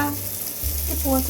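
Brief sizzling of bitter gourd frying in a pan, with a steady hiss and a low hum in the background.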